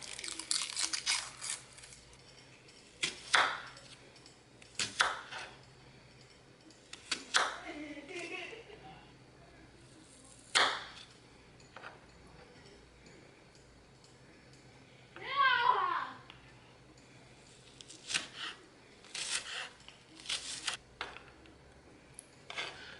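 A knife chopping a shallot on a cutting board, making sharp irregular taps and crunches spread across the stretch, with quiet kitchen handling noises between them.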